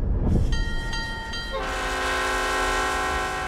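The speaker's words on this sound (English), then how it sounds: "a train left the city heading west towards Abilene" Train departing a city heading west, a sustained loud horn blast that rises into a fuller chord over the steady rumble of the rolling train.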